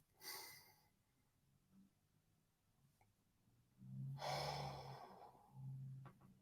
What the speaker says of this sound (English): just take a moment to do a mindful breath